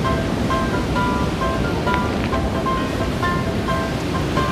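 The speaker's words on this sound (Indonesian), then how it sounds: "Karena airnya tuh deras banget ya guys." Strong irrigation water rushes through a rice field, a steady, dense roar of flowing water heard close and constant throughout with no pauses.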